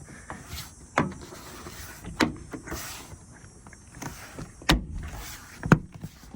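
A Toyota front door panel being pushed down into place during a door replacement, several dull thumps and clunks spaced irregularly, close and moderately loud over faint background noise, with no talking.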